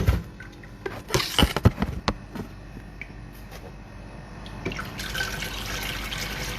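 Water pours and splashes into a vessel for making tea, with irregular drips and clinks at first, then a steadier trickle, close and moderately quiet.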